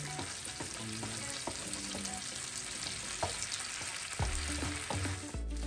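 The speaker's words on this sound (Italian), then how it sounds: "andiamo a cuocerli, a dargli l'ultimo pezzo di cottura, visto che questi sono appunto i precotti e reidratati, nell'olio del guanciale" Precooked, rehydrated cannellini beans fry steadily in guanciale fat, a dense continuous sizzle with occasional stirring clatter and scraping of a utensil in the pan, close and fairly loud throughout with no voices.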